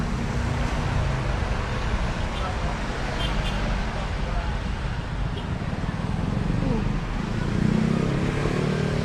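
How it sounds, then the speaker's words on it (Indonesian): An overheating freezer compressor vibrates while its fan spins, making a steady broadband whir over a low hum, with someone talking throughout. "Mesin getar, kipas sudah muter"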